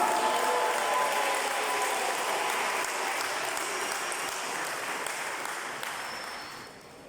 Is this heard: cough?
no